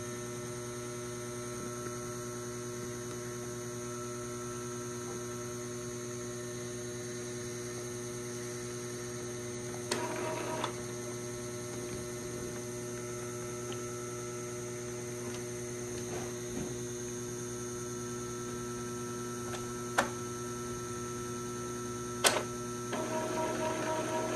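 An Epson 3216 printer runs a head-cleaning cycle, giving a steady low electrical hum with a few faint clicks and ticks over about twenty-four seconds, with no talking.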